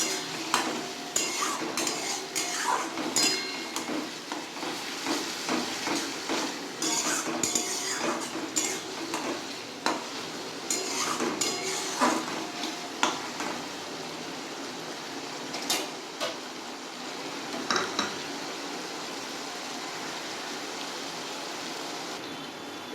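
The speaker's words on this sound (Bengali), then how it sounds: "এবার টমেটোটা আমি হালকা করে ভেজে নেবো যতক্ষণ না কাঁচা গন্ধটা যাচ্ছে" Tomato paste sizzling in a pan with onion and capsicum for chilli fish gravy, a spoon scraping and clinking steadily against the metal in quick repeated strokes, close and fairly quiet, with no talking.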